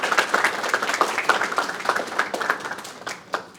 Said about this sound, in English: Could everybody please clap for Emma Newell?